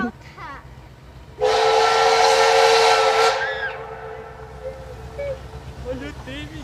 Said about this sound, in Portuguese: Olha o trem, Miguel!